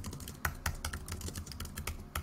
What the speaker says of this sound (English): We just highlight the text. You can start typing